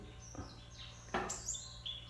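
Birds chirping outdoors in the morning: several short, high, bright chirps at irregular intervals over a steady low background hum, moderately close and fairly quiet.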